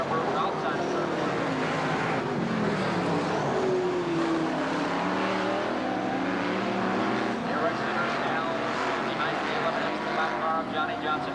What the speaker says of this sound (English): Jack Ashman is misfiring machine, burning the alcohol off the tailpipes as he slowed to the inside of turn number